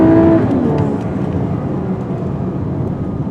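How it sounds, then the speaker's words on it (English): A 2024 VW Atlas Cross Sport in sport mode plays a simulated high-performance exhaust sound, a loud engine-like roar that swells briefly at the start and then settles into a steady, continuous drone. "if you put this vehicle in sport mode, you get a high-performance exhaust sound"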